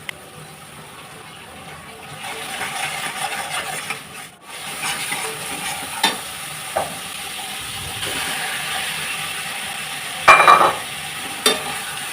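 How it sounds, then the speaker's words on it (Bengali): Hilsa fish with ash gourd is stirred and fried in a pan, giving a soft continuous sizzle with scattered scrapes and knocks, fairly close, with no talking. "মাছটা আমি কষাতে দিলাম"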